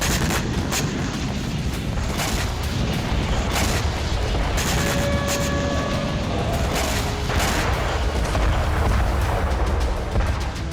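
FAB-500 bombs dropped from an Su-34 strike a Ukrainian military post near Kharkiv, making a dense series of heavy booms and blasts that roll on continuously at high volume, with no talking.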